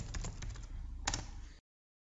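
Computer keyboard typing a short command, a quick run of light clicking keystrokes with one louder cluster near the end before abrupt silence.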